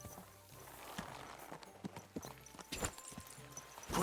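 Horse hooves clip-clop in Kingdom Come: Deliverance 2, a steady run of soft beats at moderate distance with scattered louder knocks toward the end.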